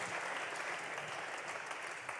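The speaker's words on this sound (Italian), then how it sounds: "Facciamo un applauso soltanto all'eleganza" Audience at a regional Ligurian artists' competition final applauds, a steady wash of clapping from many hands, fairly faint and continuous throughout.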